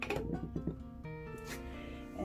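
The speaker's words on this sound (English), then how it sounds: "That was the sound of the wires going all the way through." Wires of a soap cutter slicing through a block of freshly molded soap give a short metallic twang, heard as a ringing tone that sustains and fades over a couple of seconds at close range.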